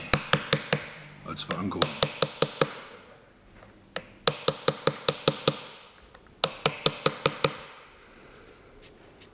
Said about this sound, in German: Und wird in den in die Bremsbeläge reingeschlagen.